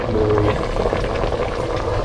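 Native chicken simmers in coconut milk in a pot, giving a steady close bubbling hiss throughout the brief moment.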